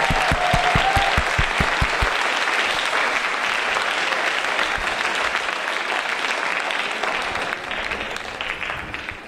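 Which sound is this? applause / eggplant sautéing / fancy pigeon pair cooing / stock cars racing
applause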